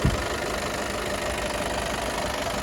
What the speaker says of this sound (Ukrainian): Так, власне, працює мотор